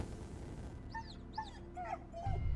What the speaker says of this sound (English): Pet the doggy.